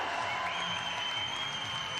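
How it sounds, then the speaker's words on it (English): Crowd cheering and applauding for climber Anna Stöhr as she tops a boulder at a World Cup bouldering semifinal in Innsbruck; a steady wash of applause and crowd noise fills the whole stretch, with music faintly underneath. "And you hear the reaction of the crowd."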